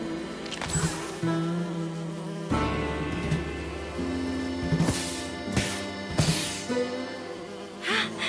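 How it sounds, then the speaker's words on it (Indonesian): Buzzing of flash bees in a My Little Pony cartoon: a steady, loud insect drone with shifting pitch throughout, broken by short swells and whooshing accents. "Lebah kilat."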